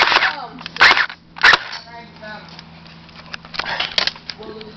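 Airsoft guns fire during a backyard airsoft war, a few sharp snapping shots spaced a second or more apart, close and loud, with voices and outdoor noise between them.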